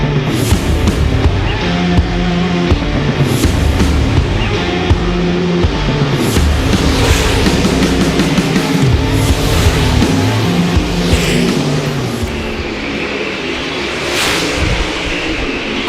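Super late model race cars roar around Bedford Speedway during a hot lap session at the Outlaws Billy Winn Classic, loud engines droning and surging as cars pass close, easing slightly near the end.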